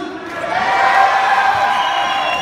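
Crowd at a breakdance battle cheering and whooping in a swelling, sustained roar that peaks mid-way and holds, loud and close with mixed voices.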